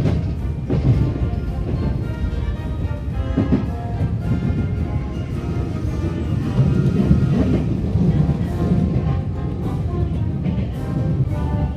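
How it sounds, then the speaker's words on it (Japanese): A Nankai Koya Line 6300 series electric train runs steadily after pulling out of Sakaihigashi, giving a continuous loud low rumble with rhythmic wheel and track noise throughout. "電車は堺東を発車しました。"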